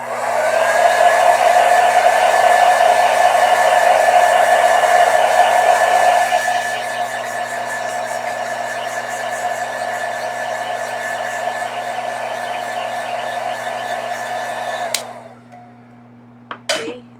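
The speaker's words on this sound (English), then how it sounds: "so just use a blow dryer to quickly dry things." A hair dryer blowing loudly and steadily to dry watercolor paint, dropping to a lower setting partway through, then switching off, followed by a couple of light clicks.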